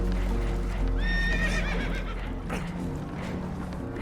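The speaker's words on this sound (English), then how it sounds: "Horses are spooked" Spooked horses in Red Dead Redemption 2 give a loud, shrill whinny over heavy rumbling game noise and hoof clatter, with no talk.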